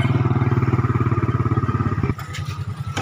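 Motorcycle engine idling with a steady, loud rhythmic putter at a roadside petrol pump in Sindh, then the note drops and becomes rougher and more uneven for the last second.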